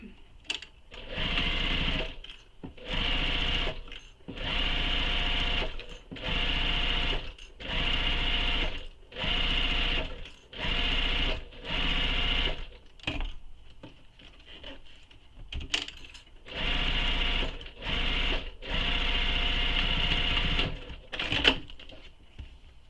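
A sewing machine stitches a belt bag seam in steady bursts of a few seconds each, separated by short pauses, running loud and close with no voices.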